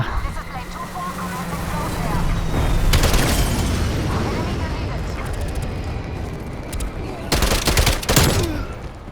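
Bursts of TEC-9 submachine gun fire in Call of Duty: Black Ops Cold War, loud rapid volleys around the third and eighth seconds over a busy game soundscape, with someone talking throughout.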